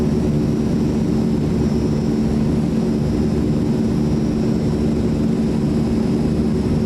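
The propeller engines of an Azurpoly C-160 in Microsoft Flight Simulator 2024 drone in a loud, steady, unbroken low rumble with a faint high whine on top during descent toward a runway.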